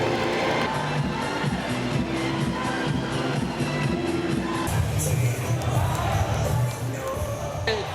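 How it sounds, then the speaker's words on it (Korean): Crowd at a Korean presidential primary rally cheering and applauding for candidate number 3, a dense, loud roar of voices and clapping that swells midway and keeps going. "기호 3번 김동연 큰 박수 부탁드립니다."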